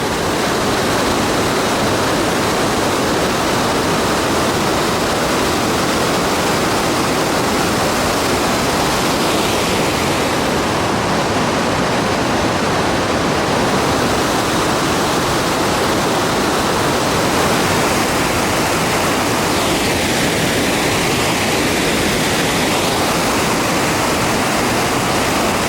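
Beamer's Falls, a large waterfall in the Niagara area, roaring as a steady, dense wash of falling water that fills the scene at constant loudness throughout.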